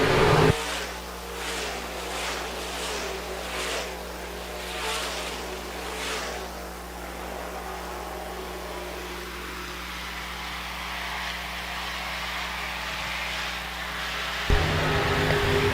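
Modified race cars circle a dirt track at Park Jefferson Speedway, a steady roar of engines heard from a distance that swells briefly at the start and end, with no one talking.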